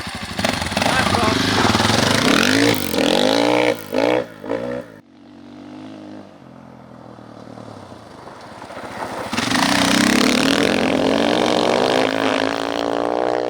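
A 2023 Husqvarna FE501 dirt bike engine starts and revs hard with rising and falling sweeps, settles into a low idle, then roars back up loudly.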